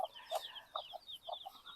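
Soft, scattered clucks from chickens on an integrated garden farm in a village, several short calls close by and fairly quiet, with no talk.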